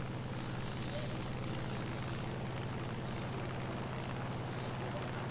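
Propeller airplane droning steadily over a tank battle in a Su-152 ground forces video game, a continuous loud engine hum with rumbling noise and no distinct breaks.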